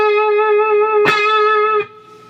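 Electric guitar playing the opening phrase of a slow blues solo: one long sustained note rings steadily, a sharp picked attack cuts in midway, and then the sound drops to a quieter held tone near the end, with no voices.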